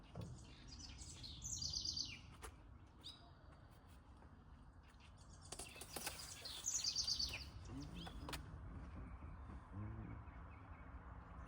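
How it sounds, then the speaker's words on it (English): Birds chirp and tweet around a campsite on a Southern California road trip, with two short bursts of high calls and a few scattered squawks over a soft outdoor background, fairly faint and with no talk. "The birds were all night."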